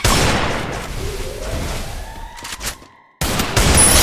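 Desert Eagle gunfire in a shooting video game, loud sharp shots landing headshots with rapid bursts, ringing tails and a brief silent gap before the firing resumes.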